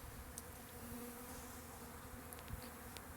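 Faint, steady buzzing of honeybees close by at a water drinker, a low insect drone with occasional brief louder passes, no voices.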